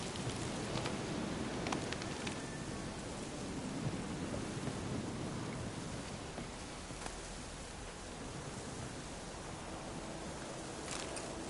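Steady rain hisses across the whole stretch in a rainy scene from The Witcher 3, with low rumbling thunder rolling underneath and a few sharper crackles near the start and end, and no voices.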